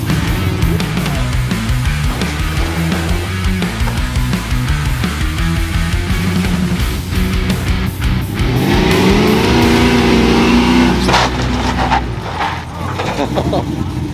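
Hot rod engine accelerating, a steady loud mechanical roar with a rising revving sweep partway through, heard alongside wind noise and other nearby cars.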